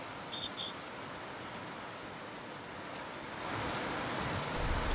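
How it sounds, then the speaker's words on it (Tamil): Heavy rain pours down steadily in a town in Nagapattinam, a dense, continuous hiss that swells louder toward the end, with no voices. "தற்போது கனமழை பெய்து வருகிறது"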